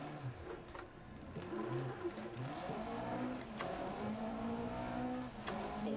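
A rally car in the racing game Dirt Rally 2.0 drives through slow corners with a continuous engine drone and rising and falling pitch as it revs, along with faint clicks and knocks, at moderate loudness.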